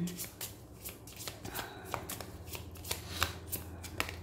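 Tarot deck being shuffled by hand, a dense run of crisp riffling snaps and soft card slaps, close and fairly quiet, with a few sharper taps as cards drop.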